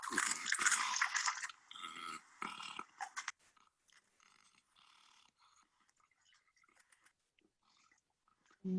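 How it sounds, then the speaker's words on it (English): A javelina munches loudly on food with crunchy, rasping chews and grunty growls, a dense burst for the first few seconds, then quieter scattered chewing sounds trailing off. "It sounded like the javelina was munching on some stuff and making some grunty sounds."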